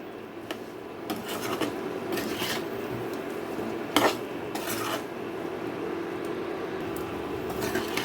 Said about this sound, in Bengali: আমি দু মিনিটের মতো আলুটা আর ডালের বড়াটাকে মশলার সাথে ভালো করে কষিয়ে নিয়েছি